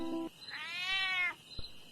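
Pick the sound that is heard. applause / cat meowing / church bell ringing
cat meowing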